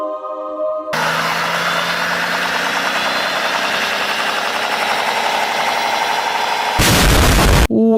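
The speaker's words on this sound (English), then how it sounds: "Isn't this a diesel engine?" A BMW M57 diesel engine starts up and runs nearby with a loud, steady, clattering idle. A harsh, louder burst of noise comes near the end.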